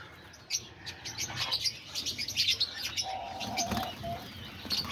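Diamond doves flutter off a nest with soft wing flaps and scattered chirps, a few close bird calls and brief coos layered over low ambient noise, with no talking.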